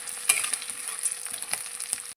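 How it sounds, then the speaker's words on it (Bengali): Close, busy sizzling of lentil dumplings (bori) frying with chillies in a hot pan, a constant crackling hiss dotted with sharp spatter pops, no voices. "এবার এর মধ্যে আমি বড়িগুলো দিয়ে দেবো, এর সাথেই বড়িগুলোকে একসাথে ভেজে নেব।"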